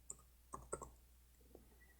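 Typing on a computer keyboard, a few faint, sparse key clicks spaced irregularly, quiet and close with no talking over them.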